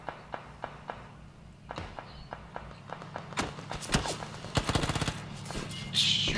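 Pistol gunfire in a video game: a series of sharp single shots, widely spaced at first and then coming faster and denser, with footstep-like taps in between.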